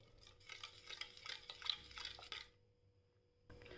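Spiced masala being stirred in a pan over a low flame for dum aloo, with fennel, dry ginger, cinnamon and coriander powders, giving a steady scraping and clinking of a spoon against the pan for a few seconds before going quiet.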